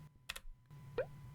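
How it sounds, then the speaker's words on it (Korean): A single Print Screen key pressed on a computer keyboard, with a couple of quick, close plastic clicks in a quiet room. "먼저 키보드에 프린트 스크린 키를 누르면"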